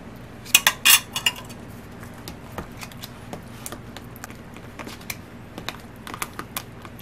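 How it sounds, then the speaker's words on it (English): RetroBright gel mixture with OxyClean being stirred in a jar, giving a close, irregular run of clinks, taps and scrapes, busiest at the start and then continuing in lighter scattered knocks with no talking. "Next, you're going to mix it into the jar that you're using."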